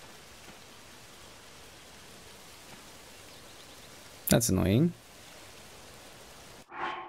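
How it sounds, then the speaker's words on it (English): Steady rain pours in The Legend of Zelda: Tears of the Kingdom, a soft even hiss running throughout while a voice briefly speaks over it and a short sharp game sound cuts in near the end. "It's raining, that's why."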